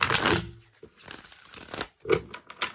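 Tarot cards are shuffled in a few quick, crisp riffling bursts separated by short pauses, close and fairly soft.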